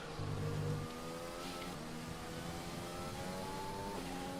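An F1 2020 race car engine at the Spanish circuit revs hard and climbs through the gears out of a corner, each upshift producing a rising whine, loud and continuous.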